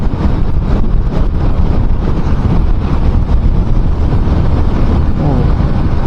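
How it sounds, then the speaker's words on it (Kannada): Strong wind roars steadily past a moving motorcycle on an open road, loud and close throughout, with constant buffeting and no pauses. "ಓಹೋ ಗಾಳಿ ಗಾಳಿ ಗಾಳಿ ಗಾಳಿ ಓಡ್ತಾ ಇದೆ ಗಾಳಿ."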